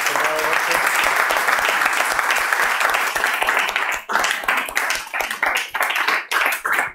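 Conference audience applauding at the end of a talk, a dense, loud wash of clapping that thins into separate claps toward the end.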